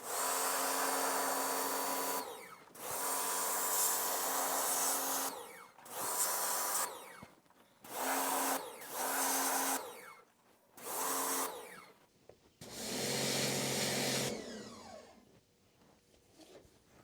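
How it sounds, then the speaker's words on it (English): Sunjoe electric pressure washer with a 15-degree nozzle blasting cracks on a wooden deck: loud broadband hissing bursts of spray, about eight separate passes of one to two seconds each with short pauses between, close by and alone. "with my electric pressure washer, it's a Sunjoe pressure washer, and this 15-degree nozzle works pretty good just to check all these cracks and kind of clean them out"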